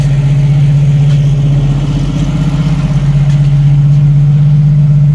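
A 1990 Jeep YJ with a 4.2L engine and a freshly replaced carburetor idles steadily and a little high on a cold start, a loud, even, close engine drone with no talk over it.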